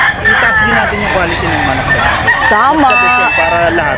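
Roosters crow repeatedly at a Filipino gamefowl farm, their drawn-out calls overlapping one another and sounding loud and close, while clucking hens and talk murmur in the background.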